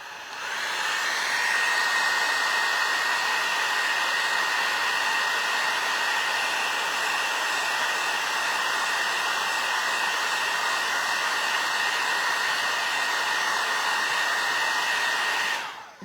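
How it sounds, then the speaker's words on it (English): A hair dryer blows on gold leaf and wax over a mould casting. Its loud, steady whir runs close and unbroken for about fifteen seconds before cutting off. "Let's dry it."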